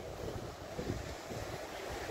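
Soft, steady wash of sea waves at a quiet beach in Vengurla, near a fishing village, heard faintly and evenly with wind noise across the microphone and no voices.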